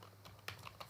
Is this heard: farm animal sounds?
no